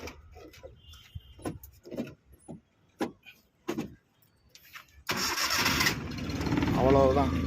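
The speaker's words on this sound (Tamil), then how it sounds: "வண்டி ஸ்டார்ட் ஆயிடுச்சு." A 2008 Maruti Omni MPFI van engine cranks and catches, then settles into a loud, steady close idle, after someone talks in the quiet stretch before it starts.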